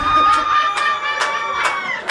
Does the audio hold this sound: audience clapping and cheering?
yes